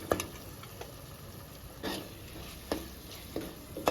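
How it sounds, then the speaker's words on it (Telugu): Chili powder fries in a pan for fish gravy with a quiet sizzle, punctuated by a few distinct scraping stirs of a spoon against the pan, no talking. "ఇప్పుడు కొంచెం ఒక 2-3 నిమిషాలు బాగా ఫ్రై చేసుకోవాలండి ఈ కారము."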